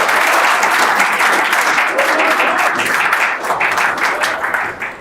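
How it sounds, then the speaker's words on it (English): An audience at a talk on lock vulnerabilities applauds the presenters with loud, dense, sustained clapping that tapers off at the end. "Let's give them a round of applause."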